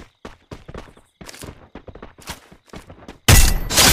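Gunfire in the Free Fire battle royale game during a solo-versus-squad match: a string of sharp, separated shots, then a loud, dense burst near the end.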